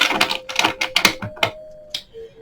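Tarot cards being shuffled in quick, crisp riffling bursts, several rapid flutters with short pauses between them.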